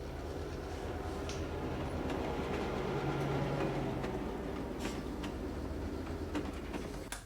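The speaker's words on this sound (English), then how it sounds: "here I added another sound effect, I think, for train." Steady rumble of a train rolling along the tracks, a continuous broad roar with faint clatter, no voices.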